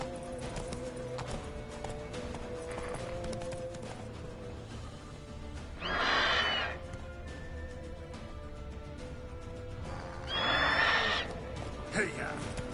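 Roach the horse in The Witcher video game: a steady rhythm of galloping hooves runs throughout, with two loud whinnies rising over game music and ambient sound.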